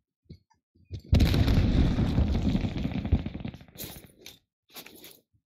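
Frag grenade explosion in a video game, a single loud, close blast that swells suddenly and rumbles for about two seconds before fading into scattered game noise.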